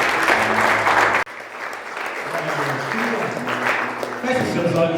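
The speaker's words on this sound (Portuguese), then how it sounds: "Aplauda o Senhor." Congregation clapping during a church worship service, steady applause across the whole stretch with a short break, while a voice and music carry on beneath it.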